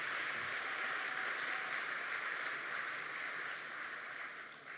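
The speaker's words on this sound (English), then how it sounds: "please do give them a very warm round of applause." Audience applause at an awards ceremony for New Zealand hi-tech companies, a steady dense wash of clapping from a large room that carries on evenly and thins slightly toward the end.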